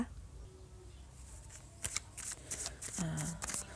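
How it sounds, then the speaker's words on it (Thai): Tarot cards shuffled by hand, with soft papery riffles and flicks that build into a denser burst of card snaps toward the end, close and moderately quiet. "แม่หมอขอสับพลังงานหน้าไพ่นะคะ"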